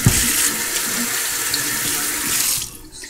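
A crab heart is rinsed under a running kitchen tap: a steady, close, full-bodied splash of water flows alone for almost three seconds, then cuts off near the end.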